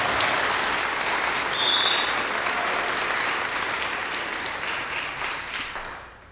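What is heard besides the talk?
audience applause at an awards event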